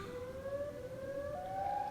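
A Siren Head siren in a video game wails steadily with a rising, tonal sweep, loud and continuous, with no voices over it.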